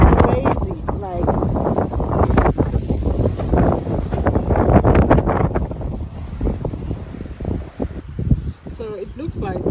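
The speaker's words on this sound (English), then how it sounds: "So the wind out here is going crazy." Strong wind blowing outdoors in a garden, a loud continuous roar buffeting the microphone with gusty rumble throughout while a person talks over it.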